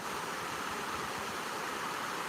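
Stream flowing steadily with a soft, even rush of water, continuous and faint, with no voices.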